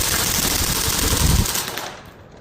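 An airsoft gas blowback rifle fires a loud, steady rapid burst of shots outdoors on a cold day, the clatter holding even for over a second before it stops abruptly and fades.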